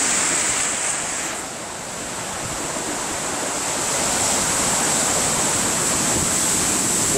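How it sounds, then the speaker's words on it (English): Lake waves crash and roar on the shore at Two Harbors during a winter blizzard, a continuous loud surf wash swelling and easing with wind noise buffeting the microphone. "The majestic waves."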